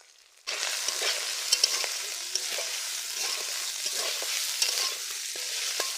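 Crushed garlic and cut potatoes frying in a pan as they are stirred: a steady sizzle bursts in after a short silence and carries on close by, with occasional scraping and clicking of the stirring.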